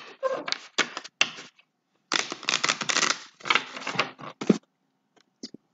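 Crisp papery riffling and slapping of tarot cards being shuffled in bursts, with short pauses between, close to the listener and no talking.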